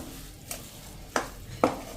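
A green pigeon pea vada mixture cooks in a pan on a slow flame with a faint steady sizzle, punctuated by three sharp scraping stirs of a utensil against the pan.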